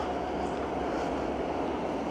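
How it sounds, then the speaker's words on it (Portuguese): A train passes nearby during an outdoor photography walk, producing a dense, continuous loud rumble and roar that stays steady throughout with no break. "O trem passou."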